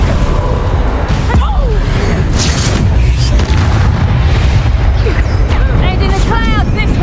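A Confringo fire spell blasts during a duel in Hogwarts Legacy, a dense booming game explosion that rolls on continuously with magical whooshes and crackles, loud throughout with game voices mixed underneath.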